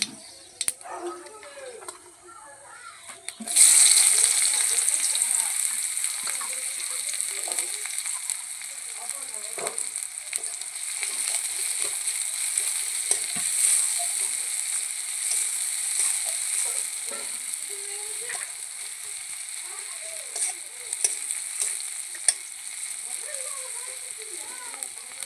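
Bengali five-spice tempering dropped into hot oil in a kadai, a bright continuous sizzle that bursts in suddenly and keeps crackling, with scattered small ticks and clinks of stirring.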